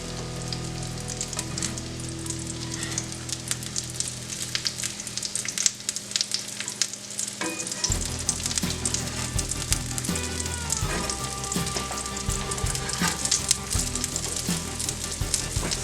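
Salmon cakes frying in olive oil in a pan, a loud, steady crackling sizzle that runs throughout, with small shifts in texture as the cakes are moved partway through.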